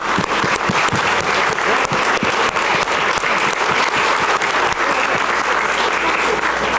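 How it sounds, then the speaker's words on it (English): A crowd gives a dense, continuous round of applause for a middle school choir and their principal at an anti-bullying press event, loud and close throughout with scattered sharp claps. "So again, round of applause for them."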